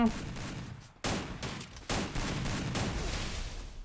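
Gunfire in the mobile battle game Free Fire: dense bursts of rapid shots with sharp loud onsets near one and two seconds, then sustained shooting, with game noise and possible voices underneath.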